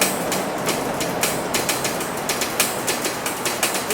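Loaded freight train boxcars roll past close by, their wheels beating a steady clickety-clack over the rail joints with a constant metallic rumble and no voices.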